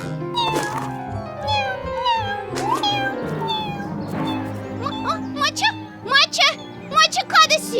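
A cartoon kitten meows again and again in high, wavering cries, with some quicker calls near the end, set against background music and a voice.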